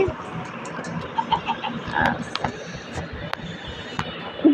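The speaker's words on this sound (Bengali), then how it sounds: "ভাই এতগুলা মুরগি, আমি মনে হয় রেলের আশেপাশে মুরগি স্পন করে দিচ্ছি" Chickens in a video game cluck in short, scattered bursts while spawning near rails, with a voice talking at times and a few sharp clicks mixed in.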